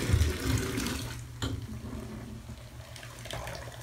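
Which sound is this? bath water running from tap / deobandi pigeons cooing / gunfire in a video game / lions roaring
bath water running from tap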